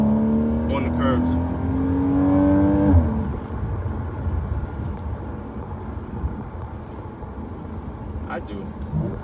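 Porsche 981 Boxster engine driven through canyon roads, a loud steady drone rising in pitch as the car accelerates for about three seconds, then easing into a lower, rougher cruising rumble.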